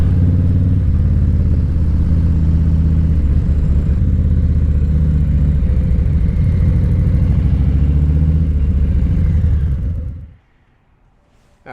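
A motorcycle engine idles and rumbles steadily as the bike pulls in near a chapel on a New Year's Eve ride in Pennsylvania, loud and close, then cuts off abruptly near the end.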